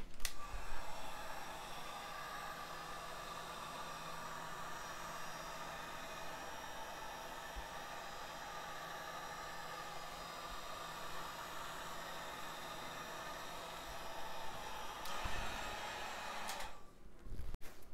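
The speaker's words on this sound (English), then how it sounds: "I am going to actually get my heat gun out and touch it with my heat gun since my butane is so low" A heat gun blows over poured green acrylic paint, giving a steady, close, hair-dryer-like whoosh that runs unbroken for most of the stretch before cutting off near the end.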